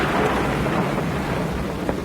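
Thunderstorm sound effect for a story of a boat caught in a storm on the Sea of Galilee: steady, dense rain hiss with a low rolling rumble of thunder, continuous and fairly loud, with no voices.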